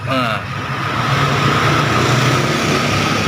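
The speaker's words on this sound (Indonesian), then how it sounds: "Mesin gak usah ragu-ragu sih, mesin halus." A 1994 Suzuki Katana DX engine idles smoothly and steadily, a low continuous hum close by after a brief voice at the start.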